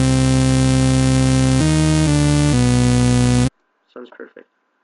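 A deepened synth melody programmed in an FL Studio piano roll for a dubstep/electronic beat plays as a loud, buzzy sustained tone stepping through several notes, then cuts off abruptly, followed by a brief bit of talk.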